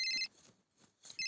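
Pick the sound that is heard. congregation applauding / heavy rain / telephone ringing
telephone ringing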